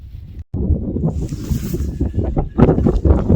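Strong wind in Hanksville buffets the microphone with a heavy, low rumbling roar in uneven gusts, briefly dropping out before surging back.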